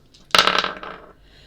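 Dice rolled during a zodiac tarot-style reading, giving one sharp clattering burst followed by about half a second of rattling that fades out, close and fairly loud with no talking over it.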